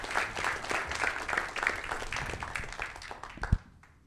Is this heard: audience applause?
yes